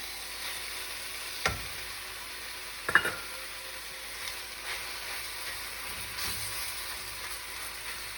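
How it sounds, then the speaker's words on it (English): Spinach goes into a pan of softened tomatoes while cooking palak paneer; a quiet, steady sizzle runs throughout, broken by a couple of soft clunks early on. "At this point, I'm going to go ahead and add my spinach."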